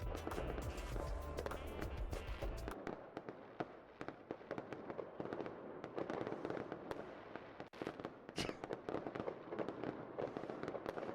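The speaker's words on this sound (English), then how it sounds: "I think there's audio with the fireworks. Let's see if we can get the explosions going." Dense bursts of fireworks explosions crackle and pop continuously, loud and close, with sharp bangs scattered throughout.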